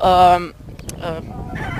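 A chicken lets out a loud, drawn-out squawk, followed by a few shorter, softer clucks nearby.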